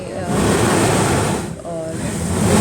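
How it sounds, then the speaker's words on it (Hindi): Sea waves crash against the rocks at the Mughsail blowhole near Salalah, producing a loud continuous roar and rush of wind and water close by, surging briefly before building again, with voices mixed in. "जब चट्टान से टकराती है लहरें तो खूब तेज़ हवा और पानी वहाँ से"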